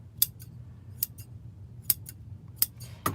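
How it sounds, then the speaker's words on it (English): Scissors snipping frayed ends of decorative mesh on a lemon wreath made from a kit, five crisp close cuts spaced under a second apart over a quiet room. "Then go ahead and trim your frays."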